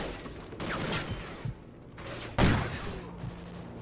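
Double pistols firing in a first-person shooter video game, a few sharp bursts of shots mixed with clattering game effects, moderately loud and close, with a player's voice briefly in the background.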